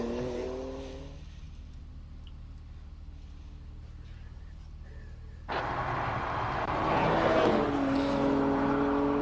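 A BMW race car runs at the Simola Hillclimb, its engine note rising and falling as it shifts, then surging louder and closer as it accelerates hard up the course.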